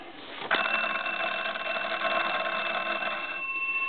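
The metal bells of a Western Electric wood wall telephone start ringing abruptly and keep up a loud, continuous, tonal clamour for about three seconds before easing off.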